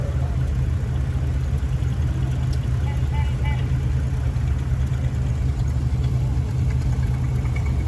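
Steady idle of a 1929 Ford Model A engine, a constant low rumble running unbroken and fairly loud close by, with an outdoor show crowd faintly in the background.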